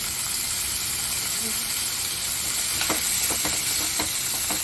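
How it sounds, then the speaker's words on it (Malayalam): Onions and tomatoes sauté in a pan for pasta, giving off a loud, even hiss throughout. A few brief stirring knocks come near the end, close by and with no talk over them. "ഇനി നമുക്കതിലേക്ക് കുറച്ച് തക്കാളി ഇട്ട് കൊടുക്കാം."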